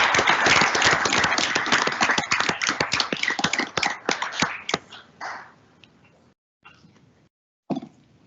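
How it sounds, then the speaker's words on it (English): Audience at a board meeting applauding for honored employee participants, dense clapping for several seconds that thins into scattered claps and fades, with a brief final burst. "One more round of applause for our"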